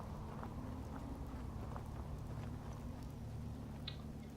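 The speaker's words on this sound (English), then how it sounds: "I wish it wasn't raining." Steady, faint rain falling in the video game Fallout 4, a soft continuous hiss with scattered light patter throughout, heard alone without any voices.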